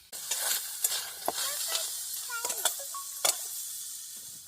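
Onion and tomato frying in oil in a pan for a crab curry, a steady close sizzle broken by scattered scraping clinks as the mixture is stirred.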